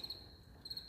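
A cricket inside a truck cab gives two short, high chirps, one at the start and one near the end. They are faint over a low, steady hum.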